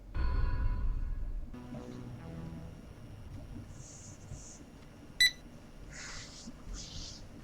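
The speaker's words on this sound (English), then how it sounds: "On a dark and stormy night in 1983, the phone rings." An old-style telephone rings on a dark, stormy night in 1983 in the horror game We Never Left, giving two bursts of bright electronic trilling over a low, murky rumble after a brief sharp click.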